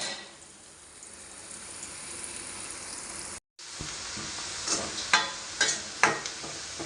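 Onions fry on a medium flame for a paneer biryani. There is a steady soft sizzle, broken by a brief dropout midway, and then louder scraping strokes from stirring come through in a loose rhythm.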